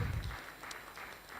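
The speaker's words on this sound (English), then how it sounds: "Please give him a round of applause as well." Audience at a tech conference applauding a guest, a brief burst of clapping from a moderate crowd that fades to a softer patter.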